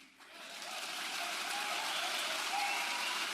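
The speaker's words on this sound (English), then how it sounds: "Why are you all applauding about that?" Audience applause from a played debate recording, a dense hiss of clapping that rises quickly and holds steady at moderate volume throughout.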